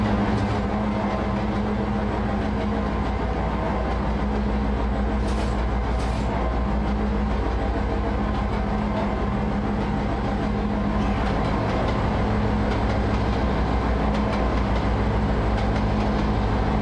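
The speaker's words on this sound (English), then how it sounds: "Well, it's a big train, isn't it?" An Amtrak passenger train of three cars rolling along the tracks near Denver, a steady low rumble and rattle of wheels and carriages, close and continuous throughout with a few faint higher clanks.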